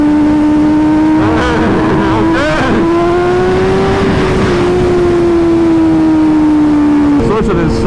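A Ducati V4 superbike races at high speed, its engine holding a loud, steady high-pitched whine that rises and falls slightly with the throttle, with brief bursts of wind and road noise and a voice talking over it.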